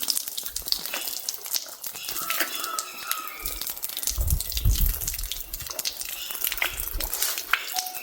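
Water runs from a tap while containers are filled on Pungudutivu island near Jaffna, a close splashing trickle with drips, crinkling and a low rumbling surge partway through.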